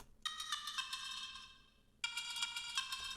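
Bell instrument in Ableton Live played through a vocoder, sounding slightly altered from plain bells: two bright, ringing chime phrases with quick repeated strikes, the first fading before a second sharp entry.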